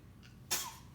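A single sharp sneeze bursts out close by, preceded by a faint short intake, in an otherwise quiet room.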